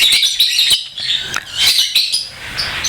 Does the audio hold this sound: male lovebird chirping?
yes